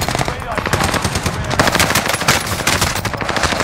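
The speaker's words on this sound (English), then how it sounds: "Is that somebody shooting over there?" Rapid automatic gunfire from a video game rattles continuously in dense bursts, loud and close, with a player's voice faintly mixed in.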